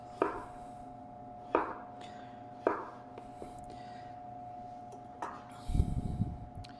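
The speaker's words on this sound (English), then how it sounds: "I want to cut off for my brunoise first" A kitchen knife cutting vegetable slices for brunoise: four or five separate, unhurried chops on a board, close and quiet, over a faint steady hum, ending in a brief rustling shuffle.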